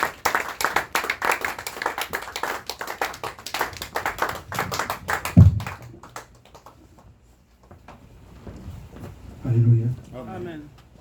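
A church congregation claps and applauds in a fast, dense patter for several seconds as the preacher comes forward, then it fades out and a voice speaks over a quieter room.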